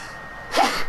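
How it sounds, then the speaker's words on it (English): A single sharp human sneeze, a quick burst of breathy noise erupting after a brief quiet moment, close and fairly loud. "I can never just sneeze once."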